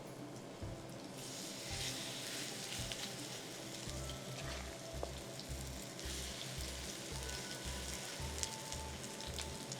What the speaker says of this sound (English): I hear sizzling already.